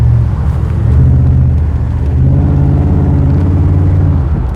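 A lowered hot rod rumbles steadily down the road, its deep engine drone loud and continuous with a slight swell near the start, no talk over it.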